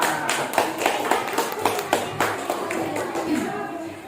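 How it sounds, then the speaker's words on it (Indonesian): A classroom of children clapping hands in praise of a group, a loose run of distinct, fairly close claps with light background chatter. "Tepuk tangan semua."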